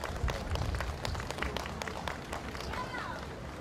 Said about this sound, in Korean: 여러분 뜨거운 박수로 환영해 주시죠